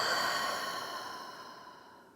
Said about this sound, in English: Big open mouth, exhale.